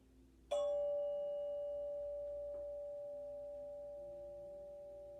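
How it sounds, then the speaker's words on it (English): A single bell strike rings out clearly, its pure tone sustaining and slowly fading away over several seconds with a faint second tap. "Now I'm going to ring the bell."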